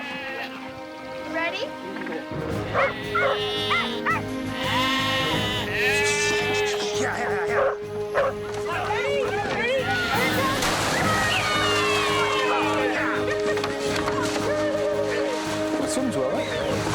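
Sheep plunging through a newly built outback sheep wash, bleating repeatedly over sloshing, splashing water, with people calling out and talking throughout at close range.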